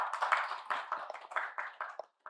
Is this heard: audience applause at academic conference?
yes